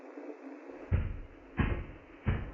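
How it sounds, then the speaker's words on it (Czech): Door opening in the horror game Five Nights at Freddy's 4, followed by three heavy low thuds spaced evenly about two-thirds of a second apart over a constant hissing background, with no talking. "to otevřel ty dveře"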